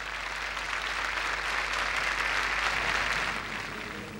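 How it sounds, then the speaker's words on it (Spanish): Steady applause from a large crowd for the Banco de Chile team in Puerto Montt at a Teletón charity telethon, continuous dense clapping that holds level and eases slightly at the end. "Este aplauso es para ustedes."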